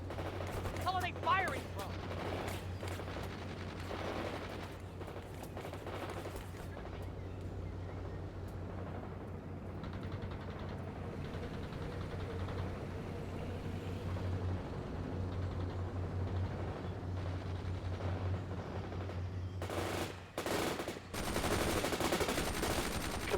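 Machine gun fire rattles in repeated bursts amid a World in Conflict battle, mixed with other gunfire, a low engine drone and shouted voice lines over the combat.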